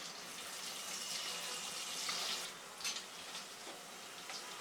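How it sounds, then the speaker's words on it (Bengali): Sliced local onions frying in hot oil over high heat, a steady close hiss and crackle with brief louder sizzling bursts and faint stirring scrapes, no voices. "ওর মধ্যে আমি কিছু দেশি পেঁয়াজ ফালি করে রাখছি, ওগুলা দিব, দিয়ে একটু ভেজে নিব।"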